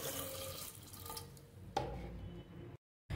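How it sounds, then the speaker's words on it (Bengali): Water is poured from a tap into a pressure cooker pot of moong dal with salt, turmeric, chili powder and green chilies, a steady trickling flow with a brief clink before it stops. "এবারে দিয়ে দেবো পরিমাণ মতো জল"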